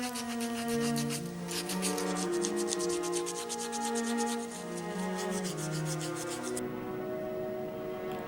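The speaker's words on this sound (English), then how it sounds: "Next, I lightly sanded it with fine grit sandpaper." Fine grit sandpaper rubs back and forth across a wooden board in quick, steady, close strokes, a soft rasping scrub that continues alone with no talk.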